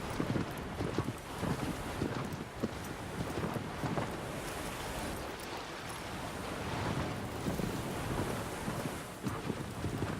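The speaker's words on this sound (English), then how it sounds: "And just the sound of the waves" Ocean waves in the video game Shadow of the Colossus, a steady wash of surf and wind-like rushing with soft crests rising and falling, moderately faint and without talk.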